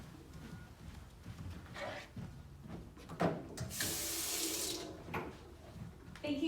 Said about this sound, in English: Mom, I'll go wash my hands.